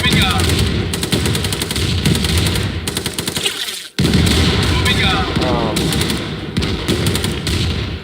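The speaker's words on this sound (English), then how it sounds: "See, that gun's starting to shoot too." Gun emplacement in Command & Conquer Remastered firing rapid bursts of automatic gunfire, loud and repetitive with a short gap midway, mixed with battle effects.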